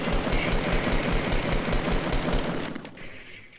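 Rapid automatic gunfire in the Fortnite video game, a loud steady stream of close shots for about two and a half seconds before fading out.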